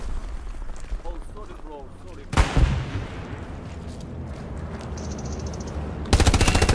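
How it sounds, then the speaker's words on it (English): Machine gun fire in a video game, with sharp loud bursts breaking in after a stretch of a voice speaking, then a second rapid burst near the end over a steady game background. "It's honestly a great feeling when you get some good shots off with the machine gun."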